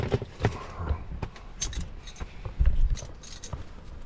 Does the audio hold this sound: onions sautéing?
no